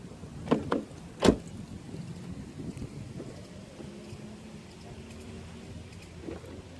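The trunk lid of a 2006 Ford Mondeo unlatches with two light clicks and then a louder clunk, followed by a soft, steady mechanical hum as it rises, recorded outdoors with wind noise.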